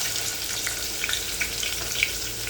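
Crushed garlic sizzles and fries steadily in a hot pan for a vegetable stir-fry, a continuous close crackle with a few sharper pops, and no voices.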